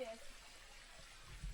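Stream water runs into a village house's supply, giving a faint, steady, hissing flow with a low rumble beneath it and no other sounds.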